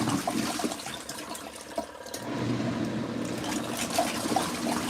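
An LG ThinQ washing machine during its rinse cycle, water sloshing and trickling inside the drum with soapy fabric-softener suds, a continuous rushing wash with a few small knocks, fairly close, with no talk.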